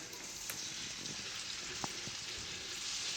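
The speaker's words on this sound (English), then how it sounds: "We're going to drop them into a searing skillet already" Pork tenderloin pieces sear in a hot skillet with a steady, close, dense sizzle and hiss that holds level throughout, with a few small pops and no voices.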